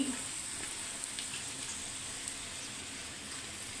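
Boiled rice being stirred into a pan of fried potatoes for aloo rice, giving a faint, steady low sizzle with occasional soft scraping ticks.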